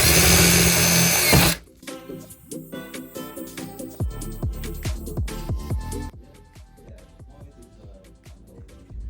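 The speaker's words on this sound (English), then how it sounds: "Let's start drilling" A power drill drives screws into cabinet box panels during assembly, giving short repeated whirring bursts of varying length, close and fairly loud, after an opening stretch of louder broadband noise.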